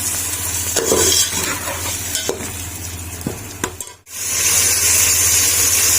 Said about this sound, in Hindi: अब पानी ऐड कर देंगे क्योंकि जो मटर हैं वो जल्दी गल जाएं